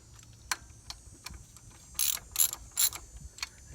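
Ratchet clicks while tightening the thermostat housing bolts on a 2006 Duramax 6.6 diesel engine, done in a cross pattern: a few sharp isolated clicks, then three louder bursts of rapid ratcheting close by.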